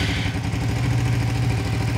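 A Suzuki Satria FU 150 fuel-injected motorcycle engine idles steadily and loudly up close, a continuous low, even rumble that holds for about two seconds with no voices.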